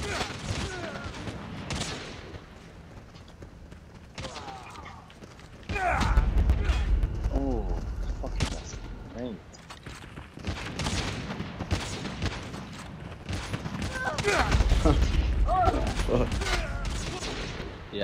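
Sniper rifle shots and other gunfire in the mobile shooter Call of Duty Mobile, sharp reports and mechanical clatter spread through a busy match mixed with game effects, with a player talking over parts of it.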